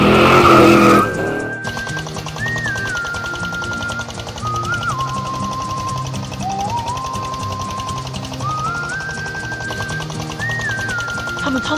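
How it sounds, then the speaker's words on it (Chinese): A cartoon tractor driven fast, a continuous engine roar with shifting pitch and tire squeals throughout, opening with a short loud burst, and a voice narrating over it. "启动这台帅到爆炸的拖拉机，护送着赛罗奥特曼往部落的方向驶去"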